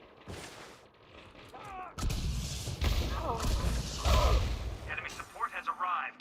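A grenade blast in the video game Elite Dangerous Odyssey hits as a sudden loud, broad boom, followed by sustained rumbling combat noise and scattered crackling, with voices speaking over it.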